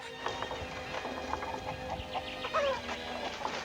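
Soft hen clucking mixed with scattered rustling and light movement noises, fairly faint and irregular, with no clear talk.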